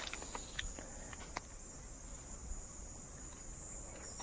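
A chirchira insect chirps in a Konkan forest, giving a steady high-pitched drone broken by short sharp clicks, with no voices over it.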